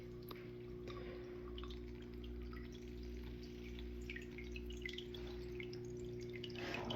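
Water runs steadily through a cleanup sluice as gold concentrates are washed one shovel at a time, a constant trickling, dripping wash with a low machine hum underneath and no talking.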